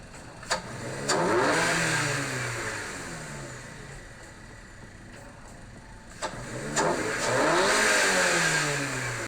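Subaru BRZ / Toyota GR86 engine fitted with a Perrin cold air intake, recorded in the engine bay, revs up twice in loud sweeping pulls separated by a quieter idle stretch.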